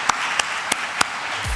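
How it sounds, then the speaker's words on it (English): Business conference attendees at a mortgage leadership conclave give a panel a round of applause, a continuous, even patter of many hands with a few sharp, louder knocks standing out. "Please, a big round of applause."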